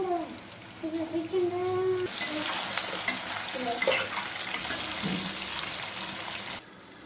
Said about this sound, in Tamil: இப்போது எண்ணெய் நல்லா காஞ்சிச்சு உருளைக்கிழங்கு சேர்த்துக்கலாம்